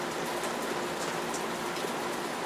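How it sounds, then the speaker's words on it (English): Steady rain falls on a leaky roof and drips inside, a dense, even hiss with scattered taps of drops, close and continuous throughout. "And now I'm in between the rain, the parts where the rain's coming in."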